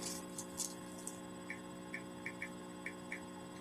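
Keyboard keys being typed on indoors, a series of light, sparse clicks in an irregular rhythm over a steady electrical hum.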